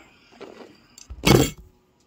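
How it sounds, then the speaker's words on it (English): A phone falls over with a brief clatter and a sharp knock against a hard surface, close and fairly loud, preceded by a softer handling sound. "Oops, sorry, knocked my phone over."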